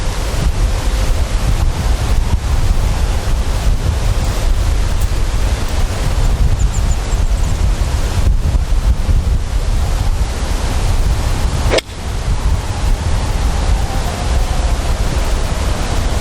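Strong wind roars steadily across an open golf course, buffeting the microphone with a dense, loud rush that barely lets up, with a brief dip partway through before the gusts resume.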